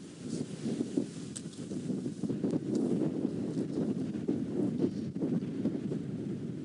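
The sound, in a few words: strong wind howling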